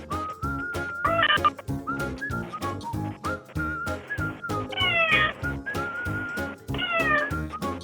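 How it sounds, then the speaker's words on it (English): A cat at a front door meows repeatedly in short, insistent calls, some drawn out and whistle-like, with brief pauses between them, heard close through a doorbell camera. "This cat is desperately trying to alert the owner to open the door."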